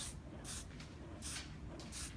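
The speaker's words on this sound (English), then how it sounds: "the Control Addict 28 is a really beautiful session spray" Short bursts of hairspray, Control Addict 28 session spray, misted onto a women's short layered haircut in a salon, hissing in four or five separate puffs over a low steady background.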